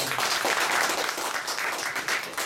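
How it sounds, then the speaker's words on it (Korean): Attendees at an annual general meeting clap together to approve nominated advisors, a dense, even burst of many hands applauding close by for a couple of seconds with no talk over it. "박수로 결정해 주십시오."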